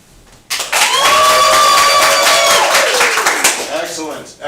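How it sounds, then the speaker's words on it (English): An audience at a live improvised Broadway-style show claps to vote for a favorite, a sudden loud burst of applause and cheering that sustains for several seconds and then fades as a voice starts speaking. "if this is your favorite, clap when I put my hand over the visual."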